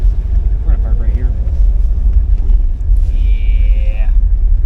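Steady low road rumble and wind from inside a moving car as it slows to park, with people talking over the drone and a brief tonal chime near the end.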